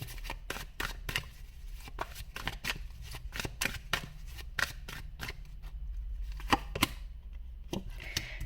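Tarot cards being shuffled and drawn, a steady run of quick crisp riffling snaps and flicks, close and fairly quiet, with no talk over it.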